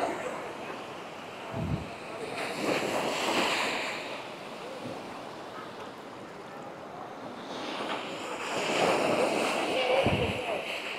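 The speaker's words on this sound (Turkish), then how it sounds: "Şimdi akşam saatlerinde biraz dalgalar yükselmiş ama gün içerisinde daha sakin olur burası." Sea waves rolling onto a shore in the evening, a steady broadband wash with two swelling surges, close and fairly loud, with some wind buffeting the microphone.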